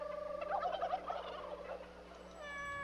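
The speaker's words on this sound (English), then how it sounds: "Who's making all them chicken sounds?" Chickens in a video game cluck and gobble in a busy run of fowl calls, then fade. A short, higher electronic tone follows near the end.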